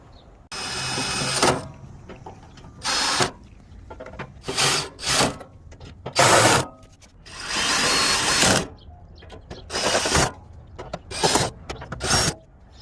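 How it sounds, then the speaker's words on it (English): A power drill drives bolts while leg braces are fitted to a Traeger Pro 22 pellet grill, short whirring bursts repeated about ten times with quiet gaps between, close and fairly loud. "We're gonna put on the 2 leg braces."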